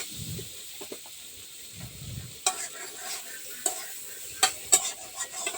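Potatoes frying in a pan, a soft steady sizzle broken by sharp clinks and scrapes of stirring, close and fairly loud, with no talking.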